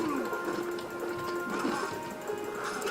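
A horse in the medieval combat game Mount & Blade Warband neighs and whinnies amid hoofbeats and the clatter of battle, loud and close, with a voice talking over it.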